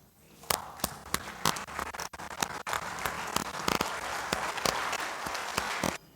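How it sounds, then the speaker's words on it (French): Members of a national assembly chamber stand and applaud, sharp, loud individual claps ringing out at first, then swelling into sustained, dense clapping that cuts off abruptly at the end. "Je vous prie, avant de continuer mes propos, de bien vouloir vous lever et applaudir ce succès."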